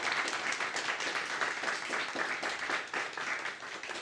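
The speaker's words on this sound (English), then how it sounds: "So let's give Fran a big round of applause" An audience applauds for the artist Frances Marshall at an arts venue talk, a dense, steady wash of many hands clapping that fills the whole stretch at moderate level, with no voices over it.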